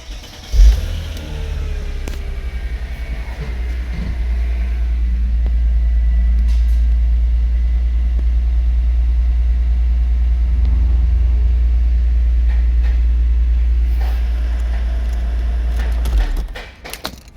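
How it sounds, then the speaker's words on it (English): A Mercedes SL350 engine cranks and catches with a brief roar, then settles into a loud, steady idle that runs on before cutting off. "let me start the car up"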